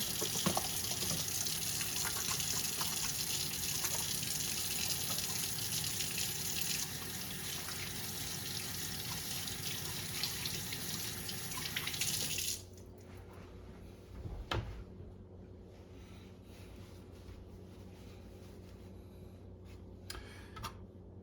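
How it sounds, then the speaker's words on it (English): Tap water runs steadily at a sink during hand washing, a full broadband gush that cuts off abruptly about two-thirds through, leaving only a faint room hush and small clatters. "we want to make sure we do a good job of washing our hands"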